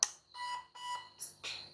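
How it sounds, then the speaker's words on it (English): A toy car beeps on power-up, a series of short electronic beeps, four or five quick tones in a row, close and fairly quiet, with no talking. "it'll beep when it powers up"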